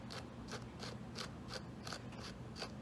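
A roller skate toe stop being screwed in gives a run of evenly spaced clicking, grinding turns at close range, about eight in quick succession.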